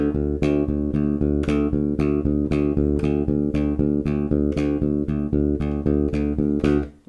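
Bass guitar playing a pedal bass line with thumb and first finger picking, rapid even repeated notes over a steady low pedal tone, loud and close, alone, ending with a short fade.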